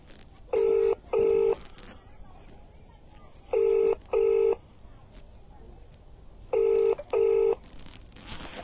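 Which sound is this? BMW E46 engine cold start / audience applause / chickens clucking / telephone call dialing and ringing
telephone call dialing and ringing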